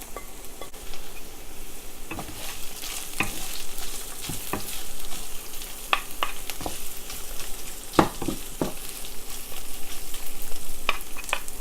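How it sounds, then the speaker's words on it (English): Chili peppers and their seeds stir-frying with garlic and ginger for Szechuan eggplant, a steady close sizzle and crackle broken by repeated sharp scrapes and clanks of a spatula against the wok, no voices. "let's go in with chili peppers"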